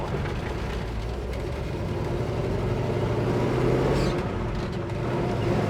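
A 1969 Chevrolet Chevelle SS-style engine rumbles steadily with a low, throaty drone, heard from inside the moving car with road noise and no talking.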